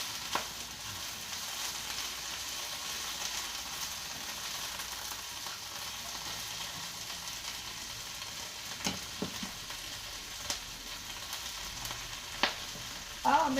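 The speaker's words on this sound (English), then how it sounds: "Drop them in the hot skillet. Make sure we toss and turn." Collard greens sauté in a hot skillet with a steady, even sizzle throughout, broken by a few sharp clicks and knocks of tossing near the end.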